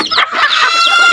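Hens clucking steadily and close in a crowded chicken coop, a dense run of rising and falling calls with no voices.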